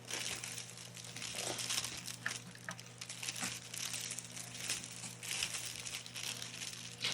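Cellophane crinkles and rustles as it is wrapped around a pencil for a Valentine's Day craft, a faint, close, continuous crackling with brief sharper crinkles, heard alone without talk.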